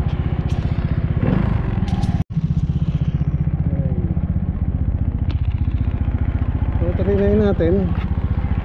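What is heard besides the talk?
Honda Beat FI scooter engine running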